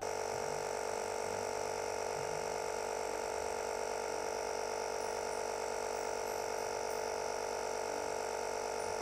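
A JFEGWO 3000A booster compressor inflates a tyre with a loud, unbroken mechanical drone and a steady buzzing rattle that holds the whole time without pause.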